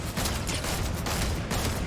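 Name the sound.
SMG gunfire in Fortnite video game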